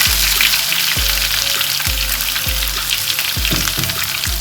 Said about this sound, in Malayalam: ഇടത്തരം 2 സവാള അരിഞ്ഞത് അതിട്ട് കൊടുക്കാം.